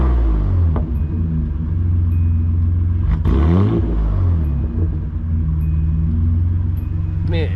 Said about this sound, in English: Now this VG30, in my opinion, sounds really good. I have a MagnaFlow exhaust system on this,